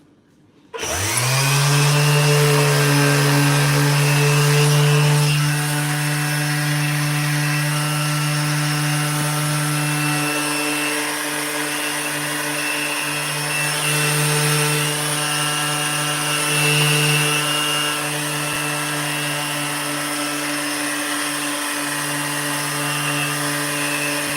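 An electric sander running fine P400 sandpaper over wood starts up abruptly and holds a loud, steady motor drone for over twenty seconds, with only slight wavers in pitch and no voices.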